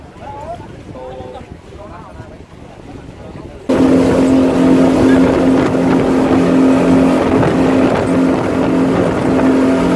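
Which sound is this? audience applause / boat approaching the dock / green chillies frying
boat approaching the dock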